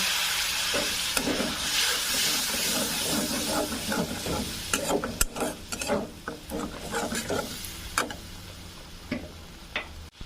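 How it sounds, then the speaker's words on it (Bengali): Ash gourd curry with turmeric and a splash of water stirred in a pan, a low steady sizzle beneath rhythmic spatula scrapes and ticking taps, close up with no voices. "অল্প একটু জল দিয়ে ভালোভাবে কষিয়ে নেব"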